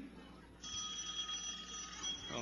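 A telephone rings faintly during a town hall meeting, its bright tone starting after a moment of quiet and continuing steadily to the end.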